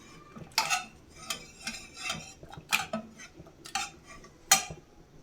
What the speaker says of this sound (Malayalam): ഈ പരിപ്പിനെ നമുക്കിനി ഒന്ന് ഇതുപോലെ ഒന്ന് ഉടച്ചു കൊടുക്കാം